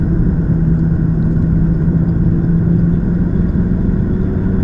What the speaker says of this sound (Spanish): Reducimos marchas